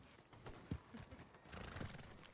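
A horse in a Western Skies RP game whinnies and snorts close by, a short neigh standing out over a steady background with soft shifting hoof sounds, no talking.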